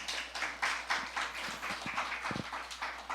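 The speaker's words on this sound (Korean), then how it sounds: "우리 하나님께 영광의 박수 올려드리겠습니다." Church congregation clapping in praise during a Sunday service, a modest scattering of claps in loose rhythmic bursts, moderately distant, with faint room sounds beneath.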